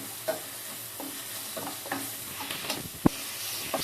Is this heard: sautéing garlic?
yes